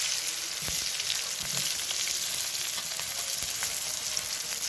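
Chopped onions sizzle steadily in a hot pan for a Bengali-style chilli chicken gravy: a constant, even frying hiss with faint stirring taps and no speech.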